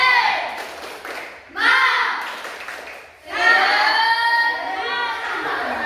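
A class of schoolchildren stands performing a rhythmic spirit clap, bursts of clapping mixed with their chanting voices, loud and close in a classroom, rising in two waves.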